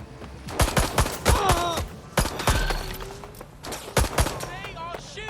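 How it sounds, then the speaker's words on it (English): Sharp gunshots crack out in a Watch Dogs Legion firefight, arriving as irregular single shots and short bursts with ringing metallic debris between them, close and loud amid bits of voice chatter. "They are shooting!"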